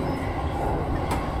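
A Keihin-Tohoku line rapid service train runs, a brief steady rumble of the carriage in motion heard from on board.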